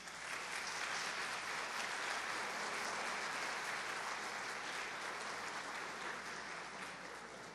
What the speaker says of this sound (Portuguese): Vamos aplaudir Rubem Alves?